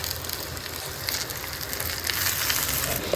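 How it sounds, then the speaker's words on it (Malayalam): Sliced onions, shallots, ginger, garlic, green chilli and curry leaves sautéing in a pan for a Kerala beef curry, a steady, moderate sizzle and crackle that swells slightly toward the end, with no voices. "അതിനുശേഷം ഇഞ്ചിയും വെളുത്തുള്ളിയും പച്ചമുളക്, കറിവേപ്പില എന്നിവ ചേർത്ത് നന്നായി വഴറ്റുക"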